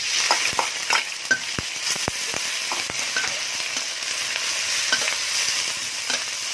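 Pork and garlic stir-fry in a hot pan with a steady loud sizzle, while a utensil scrapes and clacks against the pan in irregular strokes close by.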